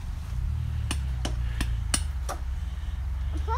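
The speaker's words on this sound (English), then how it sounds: "I think this is about her first time using a hammer" A young child hammering with a hammer, five or six separate sharp taps spaced unevenly about a third of a second apart over a low steady background hum.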